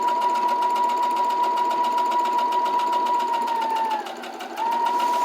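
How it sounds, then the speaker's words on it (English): A sewing machine runs steadily and loud, stitching the bottom seam of a handmade fabric purse with a continuous motor hum, easing briefly near the end before picking back up. "Now we're sewing the bottom."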